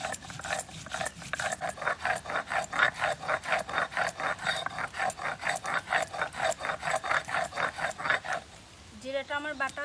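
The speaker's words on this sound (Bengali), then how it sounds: "জিরে বেটে নেব।" Cumin seeds are ground on a grinding stone with a rhythmic back-and-forth rasping scrape, about two strokes a second, loud and close, ending in a short pause and a brief burst of voice.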